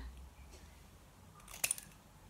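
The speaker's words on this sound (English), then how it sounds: "I think I'm going to cut a bit off the end" Scissors snip through cardstock during a stamping craft, two or three quick crisp cuts close by near the end, over a faint quiet room background.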